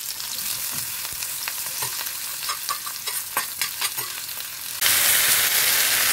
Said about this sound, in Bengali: চিকেনটা একটু ভেজে নেবো